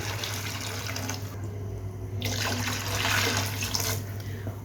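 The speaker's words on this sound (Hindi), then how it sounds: "और अब मैं यहाँ पर ऐड कर दूँगी इसके अंदर पानी" Water poured from a mug into a pot of chicken nihari, a steady, moderately close splashing pour lasting several seconds and swelling slightly near the end.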